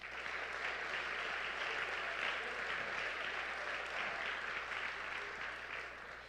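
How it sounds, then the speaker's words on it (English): Sustained audience applause at the 2025 WUESPY's student athlete awards, an even wash of clapping heard at moderate distance over a low steady hum, with no clear talk. "So clap it up for WUSAC."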